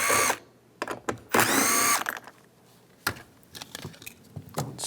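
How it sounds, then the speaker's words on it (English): A 7mm socket on a power driver backs screws out of a 2015-2020 GMC Yukon side mirror, in short whirring bursts with pauses and small clicks between them, close by. "You can use a 7mm socket, take these 2 screws out."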